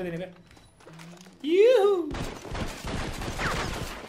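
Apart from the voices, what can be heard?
shotgun fired at close range in Red Dead Redemption Online, video game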